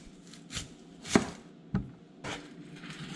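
Knife slicing an onion into rounds for a pork rib meal: a few separate crisp chops on a cutting board, spaced out and fairly close, with quiet pauses between cuts.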